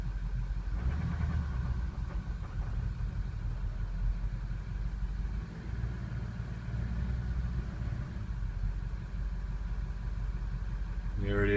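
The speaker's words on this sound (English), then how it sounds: "So you hear it stumbling real bad." A 6.0 Powerstroke diesel truck engine with a faulty EGR valve idles roughly, stumbling badly with an uneven, faltering rumble, running steadily close by for several seconds.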